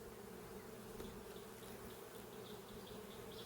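A steady, dense hum of honey bees fills a hive, continuous and close, with no voices over it.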